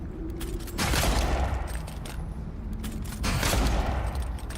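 Repeated gunfire bursts from a gun in the fantasy video game Avowed, loud and close, firing in two dense volleys separated by a short lull, with no talk.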